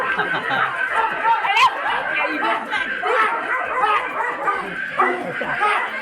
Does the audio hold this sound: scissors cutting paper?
no